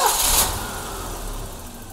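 A BMW E30 engine with an idle issue cranks and catches, a brief rising roar at the start settling into a steady rough idle, close and loud, with no talk.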